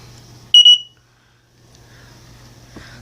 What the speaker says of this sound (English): I'm about to test the old smoke alarm.